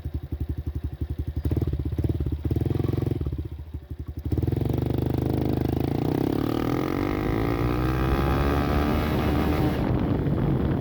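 Honda Trail motorcycle pulling away in first gear, a loud, thumping small single-cylinder engine that idles unevenly, then revs up steadily as it rides off, with wind buffeting the microphone.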